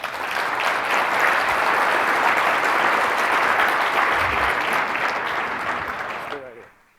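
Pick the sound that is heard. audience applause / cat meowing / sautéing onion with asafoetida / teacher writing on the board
audience applause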